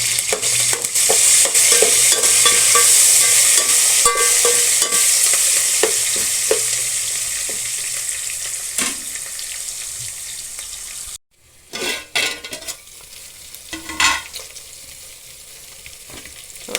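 A spice mix with turmeric fries and gets stirred in a pan, giving loud continuous sizzling with scattered clinks of the spoon. It cuts out abruptly partway, then returns as intermittent scraping and spatter.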